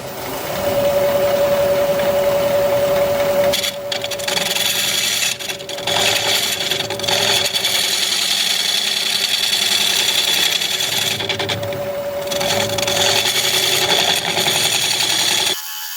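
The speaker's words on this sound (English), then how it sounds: "I'm going to sharpen up my gouge" Grinder sharpening a wood turning gouge in a woodturning shop, a loud continuous whirring hum with a steady tone, broken by a few brief shifts as the tool is pressed and repositioned.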